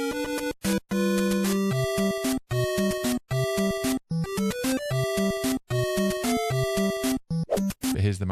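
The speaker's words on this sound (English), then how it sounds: "Today, we're going to be talking about the underwater theme from the original Super Mario Brothers." Super Mario Bros. underwater theme from the original game, a steady chiptune waltz of stacked synth tones with bass notes pulsing in regular phrases, loud and alone with no talking.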